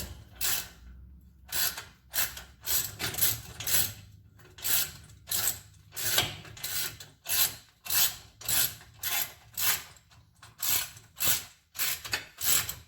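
Rhythmic rasping ratchet strokes come close and evenly paced as a hand tool is cranked to press a wheel hub assembly out of the steering knuckle on a 2005 Dodge Ram, with short pauses between the bursts.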